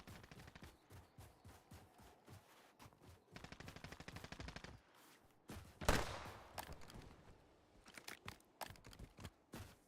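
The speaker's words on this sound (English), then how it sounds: "He's shooting." Automatic weapon fire in Call of Duty Warzone, rapid bursts of close gunshots in quick rhythmic volleys, with one louder crack in the middle and scattered shots afterward.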